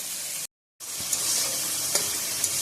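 Spice paste hits hot tempered oil for a banana-flower curry and keeps up a loud, steady crackling sizzle, broken by one brief silent gap near the start.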